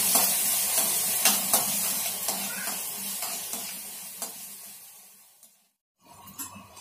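Onions fry in a pan until golden brown, a steady close sizzle and hiss broken by scraping stirs, cutting out briefly near the end before resuming.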